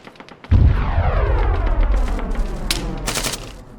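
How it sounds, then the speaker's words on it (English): Enemy gunfire in an Arma game erupts as a sudden loud burst of automatic fire and booming shots, then continues as rolling, echoing volleys with sharp cracks near the end. "Enemy fire!"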